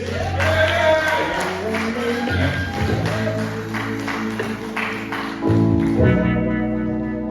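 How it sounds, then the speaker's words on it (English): At a comedy show in the State Theater, the audience applauds and cheers for a comedian. The crowd noise is loud and continuous, with shouts and whoops, and music-like sustained tones sit under it. "Keep the applause going."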